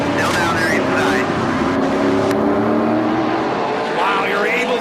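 NASCAR Canadian Tire Series stock cars roar through a corner at Clarington in 2012, several engines droning loudly and steadily with overlapping pitches as they run side by side, a commentator talking over the din.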